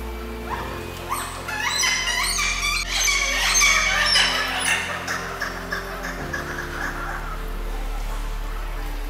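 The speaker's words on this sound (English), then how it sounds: "That noise came out of those birds." Alaskan seabirds calling loudly and continuously in an enclosed aviary room at a sea life center, a dense overlapping chorus of shrill squawks and cries that swells in the middle and then eases.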